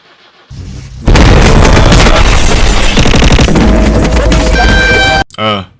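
A car engine in My Summer Car cranks and fires into a loud, rough, sustained roar for several seconds, then cuts off abruptly and is followed by a brief voice.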